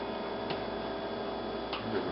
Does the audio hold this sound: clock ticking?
yes